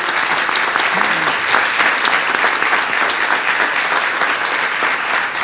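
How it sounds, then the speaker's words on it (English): Sustained applause from a seated audience after a Smithsonian lecture on ocean health, an even, dense wash of clapping at close range, with a faint voice briefly audible. "I just want to give one quick round of applause to Dr. Knowlton again."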